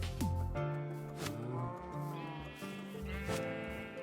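Sheep bleat repeatedly in a Minecraft farm setting, several loud, wavering calls close by with short pauses between them and a low lowing tone underneath, no talking.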